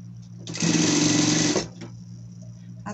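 Sewing machine stitching fabric for a cap, one steady loud run of about a second, close up, starting and stopping abruptly against quiet room hum.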